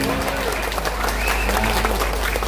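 Audience applause at a Balinese drama gong comedy performance by the Bangli regency troupe, a dense steady patter of clapping filling the hall, with some voices and a tonal sound mixed underneath.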